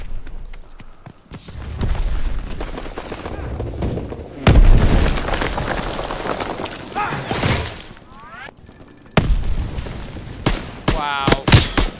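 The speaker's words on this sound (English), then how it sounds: "They planted a bomb on our ammo supply." A bomb blows up an ammo supply in the World War II shooter Call of Duty WW2 with a heavy boom and shattering crash, surrounded by gunfire, thuds and battle noise, with brief voices in the mix.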